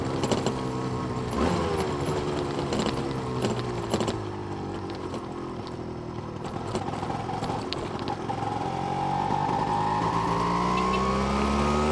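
A Yamaha DT two-stroke motorcycle engine revs up and holds a high, climbing pitch, loud and close, with a steady rough drone and no talking.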